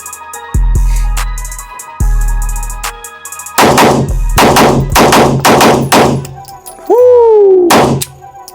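Handgun double taps fired at 7 yards from the low ready position on an outdoor range: loud booming shots, then a rapid run of sharp cracks in close pairs, with a ringing tone near the end.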